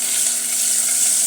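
Ajwain seeds sizzle in hot oil, a steady, loud crackling hiss that fills the whole stretch without a break, with no talking over it.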